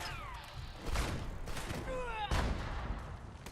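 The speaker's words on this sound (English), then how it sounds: "Stop shooting me." Gunfire in the online game Fallout 76 during a Pitt expedition, with several loud, close shots and bursts cutting through game noise, swooping effects and voices talking over the action.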